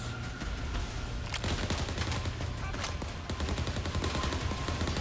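Gunfire in the zombie shooter Overkill's The Walking Dead, a dense run of rapid shots and bursts over a steady low rumble of game ambience, loud and continuous throughout.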